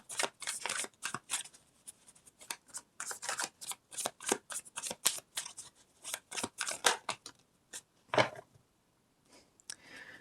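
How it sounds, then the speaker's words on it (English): Tarot cards are shuffled close up in quick riffling bursts with brief pauses between them, and one louder slap near the end. "I think we're just going to pull one final card here."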